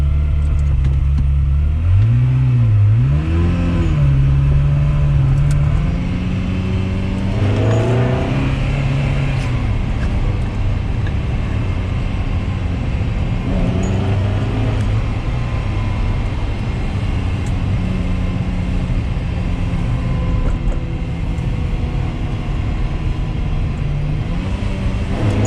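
A salvage Ferrari engine, suspected of a rear main seal leak, revs up in a few rising sweeps that climb and fall back, then holds a steady drone, loud and close with no talk.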